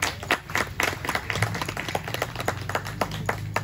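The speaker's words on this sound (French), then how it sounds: "Je vous demande de l'applaudir" A room full of guests at a Masonic lodge banquet for the Saint John the Baptist celebration applauds the woman who prepared the meal, dense steady clapping close by with a few crowd murmurs underneath.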